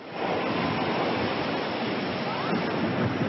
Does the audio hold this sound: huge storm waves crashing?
yes